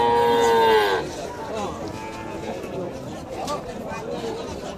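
A cow lets out a long, loud moo at the start at a busy cattle and calf market, then fades into the background murmur of crowd chatter and voices.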